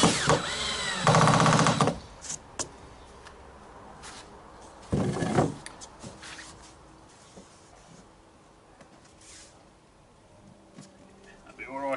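A power sander works a wooden baseboard in two loud close bursts, a long one near the start and a shorter one midway, with quieter handling noise and some talk in between.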